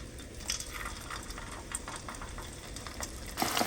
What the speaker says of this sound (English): now we're going to go for our second fry to make sure it's crispy